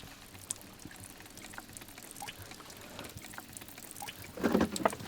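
Mountain spring water pours steadily into a container outdoors, a continuous splashing trickle that swells louder near the end.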